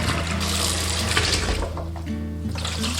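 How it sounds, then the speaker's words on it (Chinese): Clear water is poured steadily into a bowl to soak ingredients for a rice cooker pumpkin rice, a continuous close splashing and gurgling that lasts the whole clip with no speech. "然后我们再倒入清水浸泡。"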